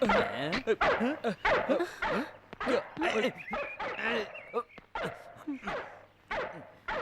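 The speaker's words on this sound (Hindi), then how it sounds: "ये तो कुत्ते की आवाज है।" A dog barks, yips and whimpers in repeated short bursts played back from a tape recorder, close and fairly loud, with people talking over it.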